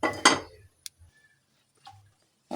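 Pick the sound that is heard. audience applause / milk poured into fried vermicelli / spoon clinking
spoon clinking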